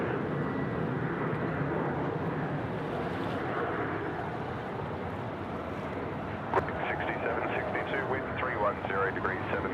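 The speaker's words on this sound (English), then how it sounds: "Velocity 812 now off to Melbourne, rolling runway 34 right." A Velocity airliner bound for Melbourne taking off on runway 34 right at Sydney Airport, a distant broad jet roar building steadily, with wind buffeting the microphone and people talking over it.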